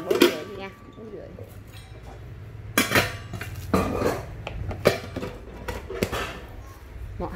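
Heavy stainless steel pots and pans, one weighing over three kilograms, clank and knock as they are handled at a household-goods sale, with sharp metallic strikes scattered under steady talking.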